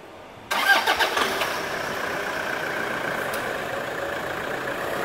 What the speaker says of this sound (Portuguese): as quatro rodas no ar funcionando